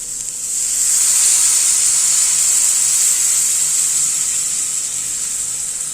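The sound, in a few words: tamarind water poured into hot pan, sizzling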